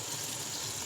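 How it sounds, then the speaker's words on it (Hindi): Water is poured into a pot of cooked mixed vegetables for a vegetable rice biryani, heard as a short, steady close gush with no talk. "ਇਹਦੇ ਵਿੱਚ ਹੁਣ ਪਾਵਾਂਗੇ ਅਸੀਂ ਪਾਣੀ।"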